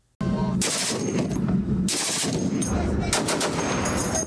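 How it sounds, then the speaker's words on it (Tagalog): Rapid bursts of heavy gunfire from four US and Philippine Navy ships at sea, several volleys of machine-gun shots in quick succession, loud and echoing outdoors with no speech. "Umalingaw-ngaw ang sunod-sunod na putok ng mga baril sa dagat mula sa apat na barko"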